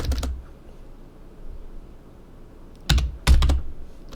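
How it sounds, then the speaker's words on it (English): Bursts of typing on a computer keyboard, heard close and fairly loud: a quick cluster of clicks at the start, a quiet pause, then two more rapid flurries of keystrokes near the end. "why can't I type tonight?"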